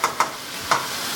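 Afritada sizzles steadily in a hot pan while a spoon stirs it, with three quick scraping clicks over the constant frying hiss, close and clear without talk.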